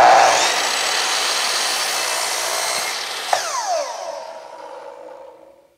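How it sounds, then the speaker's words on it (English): A saw makes a first rough miter cut through wood for a necklace case: a loud, steady whirring cut for about three seconds, then the blade winds down with a falling whine that fades out. "Now this first cut doesn't need to be precise because really I'm just setting this first miter and removing that last bit on the edge."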